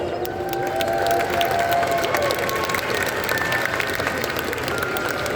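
Loud, dense arena crowd applause and cheering for police, sheriff, fire and EMS responders at a monster truck show, a steady roar filling the space throughout.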